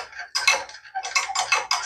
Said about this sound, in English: I'm going to put the yeast in here too and mix it